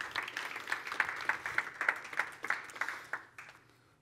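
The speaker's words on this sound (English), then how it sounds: "please just give a warm round of applause for Carrie and Dan" Applause from a seated audience at a negotiation seminar: a fairly faint, brief patter of claps that holds for a few seconds and then fades out.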